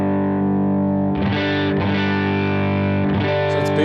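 Electric guitar with distortion through a Line 6 HX Stomp XL with parametric EQ engaged, a loud sustained chord followed by several re-struck chords ringing together, a short high squeak at the close.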